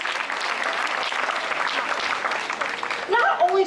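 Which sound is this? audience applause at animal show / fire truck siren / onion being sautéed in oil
audience applause at animal show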